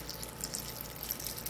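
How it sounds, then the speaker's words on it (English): Room temperature water pours into a bowl, a faint steady splashing trickle with small drips, close and continuous for a moment. "put in normal water, that's room temperature water"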